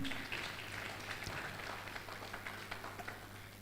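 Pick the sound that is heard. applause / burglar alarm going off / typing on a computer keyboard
applause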